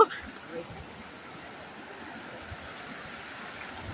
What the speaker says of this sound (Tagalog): Naririnig nyo ba guys yung agos ng tubig?